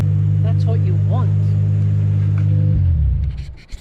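A Nissan Skyline R33 with a forged RB25DET engine idles with a deep, steady exhaust rumble, then the note swells and fades as the car pulls away, while a person speaks over it.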